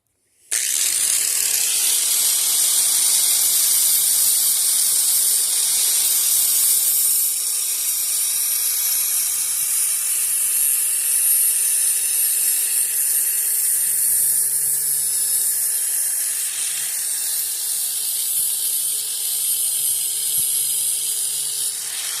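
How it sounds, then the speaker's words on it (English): A sanding disc grinds down sharp edges of a metal rabbit cage with a loud, continuous high-pitched whine and hiss lasting about twenty seconds, steady apart from slight shifts in pitch. "Now I'm going to take a sanding disc and grind down all these sharp edges"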